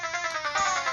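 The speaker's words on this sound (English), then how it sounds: "The phone is ringing right now for the house phone." A house phone rings in the background, an electronic ringtone with a steady sustained tone and slight pulsing, moderately loud and alone.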